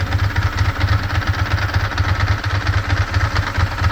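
A 2002 Ducati ST4s motorcycle engine holds a fast idle around 1,000 RPM, a steady close low-pitched throb with an even pulsing beat and a mechanical rattle over it, loud and alone with no talk.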